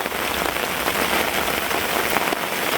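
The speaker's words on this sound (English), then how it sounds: "the angle of the rain is catching on some of these tie-out points and then running down the tarp" Heavy rain pours steadily onto a lean-to tarp shelter at a camp, a dense, continuous close patter with no pauses and no voices.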